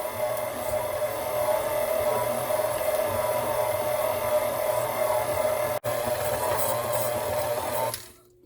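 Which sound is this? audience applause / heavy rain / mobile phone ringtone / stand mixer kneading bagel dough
stand mixer kneading bagel dough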